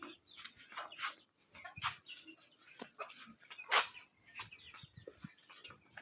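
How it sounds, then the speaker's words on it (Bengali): Chickens on a farm cluck and chatter in scattered, uneven bursts, with one sharper squawk standing out among the low murmurs, moderately close and fairly quiet, with no voices. "অনেকগুলি মুরগি এখানে আছে"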